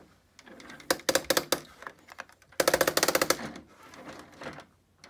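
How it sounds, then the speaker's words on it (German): A crank on the back of the Lego Haunted House set 10273 is turned, giving close, loud plastic clattering bursts, one around the first second and a denser rattling run near the middle, with quieter clicking between. "auf der Rückseite gibt es eine Kurbel. Wenn man da kurbelt,"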